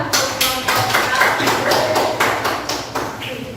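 A classroom group applauds with sharp, rhythmic claps repeating evenly for several seconds, fairly loud and close, with some voices mixed in.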